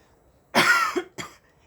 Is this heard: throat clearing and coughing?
yes